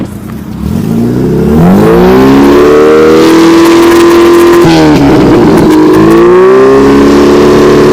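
A VAZ 21099 car engine revs loudly and continuously, its pitch climbing and falling through several surges, close by with no talking.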